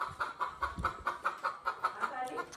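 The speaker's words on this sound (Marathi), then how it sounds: "कोंबड्या आतमध्ये आल्या तर." Chickens that have wandered indoors give a steady run of about nine clipped clucks, evenly spaced, with faint household noise beneath.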